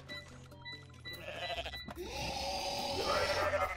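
A goat in the video game Goat Simulator lets out a loud, drawn-out bleat that swells and rises over a steady game soundscape.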